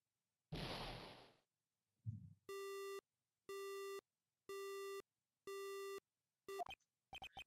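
A telephone busy signal in the Ace Attorney Justice for All video game, after a call cuts off: a whoosh and thud, then four evenly spaced loud tonal beeps, followed by glitchy clipped tones.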